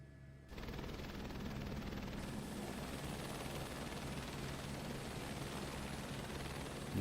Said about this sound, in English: flying around in helicopters